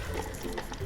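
About one to one and a half glasses of water is poured into a pot of mixed lentils (chana, masoor and mash dal), a short, continuous splashing gush.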